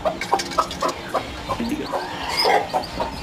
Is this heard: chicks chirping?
yes